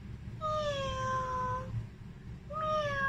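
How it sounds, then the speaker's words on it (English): Two clear cat meows, the first long and drawn out, the second starting after a short pause, close and distinct over a low background hum. "Yes, it's a cat."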